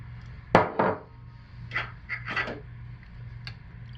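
Cold process soap batter being stirred by hand in a container, giving a few close, soft scraping and knocking strokes in short bursts over a low steady hum.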